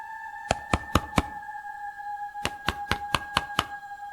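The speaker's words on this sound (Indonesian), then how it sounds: "Suara ketukan terdengar dari luar." Someone knocks on a door from outside: four quick raps, a pause, then six more evenly spaced knocks, over a steady electronic hum.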